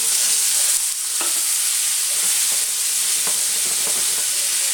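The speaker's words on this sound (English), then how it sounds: "What we're doing now is called deglazing the pan." Strongbow cider hitting a hot frying pan to deglaze it, a loud bright continuous sizzle and hiss with a few soft scraping clicks, steady and close without any voices.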